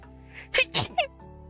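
A person sneezes close to the microphone, a short sharp burst with quick follow-on catches of breath, then quiet.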